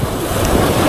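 Ocean waves and surf rushing at sea just after a typhoon during fishing from a boat, a loud close wash of water with wind buffeting the microphone.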